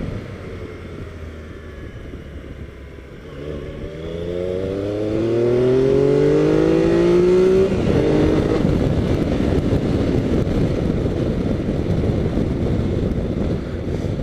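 A 3-cylinder 1215 cc triple motorcycle accelerating on a road, engine note rising through several gears with brief shift breaks, then a steady loud drone mixed with heavy wind rush.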